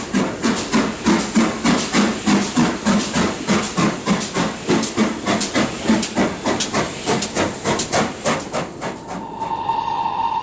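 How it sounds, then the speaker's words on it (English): A small local steam train hurries past on a West Country branch line, loud and close, with rapid rhythmic chuffing and hissing steam that carries on steadily before easing off at the end, no voices present. "In the West Country, a small local train hurries by on a branch line"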